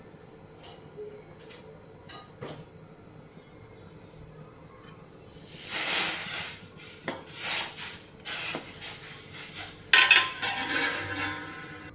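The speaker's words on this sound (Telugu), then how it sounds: "నీళ్లు మరుగుతున్నాయి కదండి, ఇప్పుడు మనం వేయించి పెట్టుకున్న రవ్వని వేసుకుందాం." A pan goes quiet for a few seconds, then grainy rubbing and stirring strokes begin as roasted wheat semolina is stirred into boiling water, with scraping of a spoon against a pot, close by.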